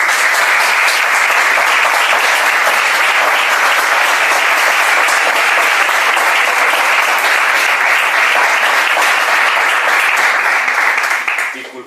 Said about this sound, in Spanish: con el aplauso que vosotros dos merecéis